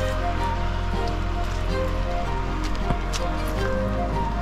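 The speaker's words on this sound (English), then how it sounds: "It's still raining, but only slightly." Light rain patters steadily on an umbrella overhead, a soft, continuous hiss of close drops with a few slightly louder taps scattered through.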